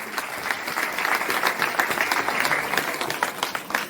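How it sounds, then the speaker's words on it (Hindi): Audience at a school annual function giving loud, sustained applause for the children, a dense, steady wash of many hands clapping close by, with a few voices faintly mixed in. "बच्चों के लिए जोरदार तालियां बजनी चाहिए"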